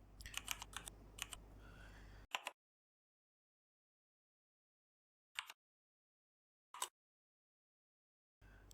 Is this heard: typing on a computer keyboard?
yes